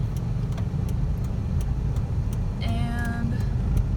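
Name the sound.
car driving forward on a driving school course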